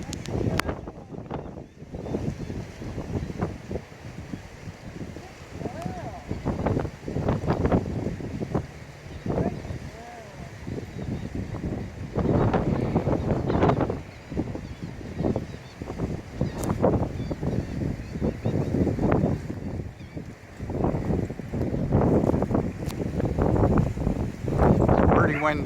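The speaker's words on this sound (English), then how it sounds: "Pretty windy right now." Strong wind gusts buffet the microphone on a shoreline on South Padre Island, where a big ship passes, roaring in uneven surges throughout with broadband rumble and rustle, while a voice speaks briefly.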